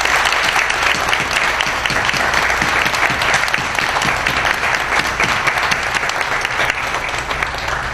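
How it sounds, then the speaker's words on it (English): Sustained, dense applause from staff and adults at a sixth grade moving-up ceremony, steady and loud throughout with no talk over it. "let's applaud these brilliant students"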